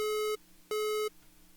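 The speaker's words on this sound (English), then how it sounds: "the beeping sound gets higher and faster, and then it gets even higher and faster" Two identical synthesized beeps from a distorted sine wave, each a steady buzzy tone lasting about a third of a second, separated by a short silence.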